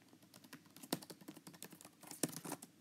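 Quick, uneven typing on a tablet case's Bluetooth keyboard, close and clear, with a few harder key strikes standing out and no talking.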